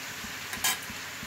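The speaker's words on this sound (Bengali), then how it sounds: "এখন ঢেকে ঢেকে এভাবে ভেজে নেবে।" Bottle gourd with prawns and eggs frying in a pan gives a steady, soft sizzle, with one brief scrape of stirring partway through.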